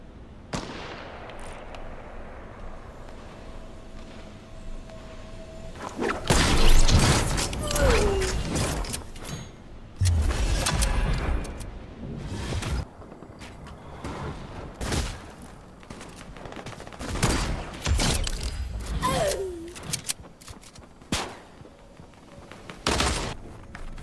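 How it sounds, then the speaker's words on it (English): Sniper rifle shots ring out in Fortnite, with several sharp, loud cracks spread across the stretch between quieter game ambience and mechanical clicks. "Check out these top Fortnite sniper kills by me."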